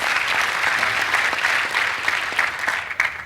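An e-commerce panel audience gives speaker Josh Gardner a round of applause, steady dense clapping that carries on evenly before thinning into a few scattered louder claps at the close.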